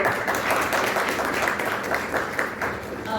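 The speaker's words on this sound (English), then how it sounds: "big round of applause for all our panelists" Audience applause for a panel of speakers at a scholarship awareness session at a Karachi university, a steady, dense wash of clapping filling the room at even loudness throughout.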